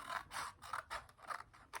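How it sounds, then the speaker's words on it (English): Scissors snip through a paper circle, cutting it in half: a quick series of about six soft, crisp cuts, close and quiet, with no talking. "then I took my scissors and I cut it right down the middle."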